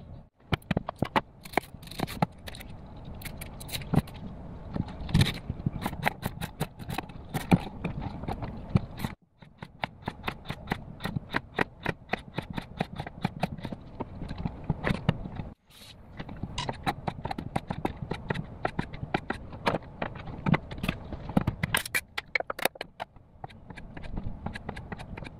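Spam and potatoes are chopped on a cutting board with a knife, giving a steady run of quick, sharp, close taps in bursts, with two brief pauses between them.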